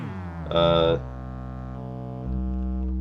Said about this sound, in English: this is just a sine wave coming out here